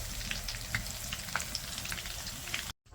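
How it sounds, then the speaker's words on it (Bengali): Garlic and black cumin frying in oil, a close, steady crackling sizzle with small pops, cutting off abruptly just before the end. "তো আমি সুন্দর করে কালি জিরা আর রসুনটা তেলে ভেজে নেব"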